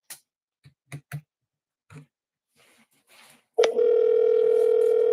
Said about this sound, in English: that's the second ring